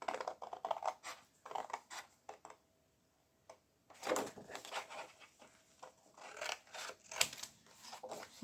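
Scissors snipping paper or card for a handmade perpetual calendar craft, a series of close, quiet crisp cuts with a short pause midway, no talking.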